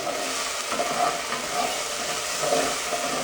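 Refrito for morocho soup with pork sizzles loudly in a pan, a dense continuous hiss broken by light scraping strokes as it is stirred.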